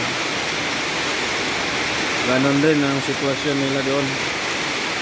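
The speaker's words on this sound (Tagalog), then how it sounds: "Ayan grabing ulan" Heavy typhoon rain in Cebu in the early morning, a steady, loud rushing hiss that holds throughout while someone speaks over it.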